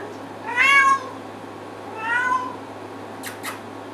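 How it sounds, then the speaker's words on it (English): An indie cat, a red-collar female, lets out two drawn-out, plaintive meows a second or so apart, close and clear, the second softer, followed by brief small sounds. "that's just a terrible noise. Isn't it? Isn't that cat?"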